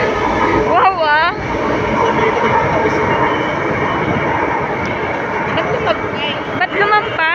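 An LRT light rail train runs along the track with a steady loud rumble, its wheels letting out several high, bending metallic squeals, while voices murmur faintly underneath.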